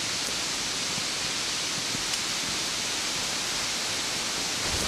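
A mountain waterfall along a trail in Taiwan gives off a dense, unbroken roar of rushing water, loud and constant, with no voices.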